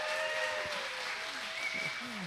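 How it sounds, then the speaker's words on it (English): Audience applause for a singer at an unDISCOVERED talent showcase, a faint, diffuse wash of clapping from a crowd, heard distantly under a tonal hum with some faint voices. "Let's give her another round of applause for her"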